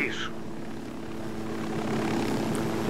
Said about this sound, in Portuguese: Deixa eu pousar o meu helicóptero.